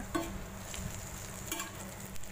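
Green chillies and onions sautéing in a pan for a Tamil egg poriyal, a soft steady sizzle with a couple of brief utensil clinks as the mixture is stirred, close and moderately quiet.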